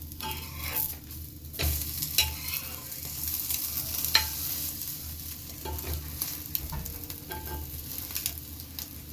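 Sweet egg bread fries in a pan with a steady, close sizzle and occasional scraping and flipping clatters, continuing without talk.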